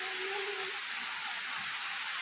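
A steady wash of light rain hisses continuously, soft and even, with a faint brief tone near the start.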